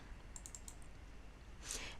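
Keys clatter on a computer keyboard while a spreadsheet formula is entered, a quick burst of soft clicks early on and a sharper single tap near the end, faint and close.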